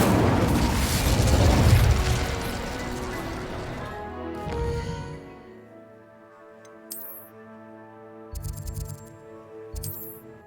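An Incendio fire spell in Hogwarts Legacy bursts with a loud whooshing, crackling roar that fades over a couple of seconds, followed by quieter game sounds and a few sharp effects.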